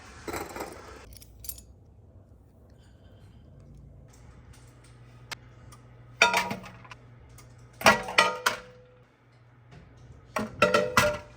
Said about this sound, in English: All right, the jiggler's going.